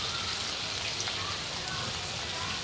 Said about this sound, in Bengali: আঁচটা কমিয়ে গ্যাসের ওভেনের একদম আঁচটা কমিয়ে হালকা হালকা করে ভেজে লাল লাল করে ভেজে নিতে হবে